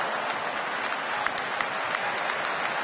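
A big crowd at a baseball stadium keeps up steady applause, a dense wash of clapping that holds at an even level for the whole stretch, with no talking on top.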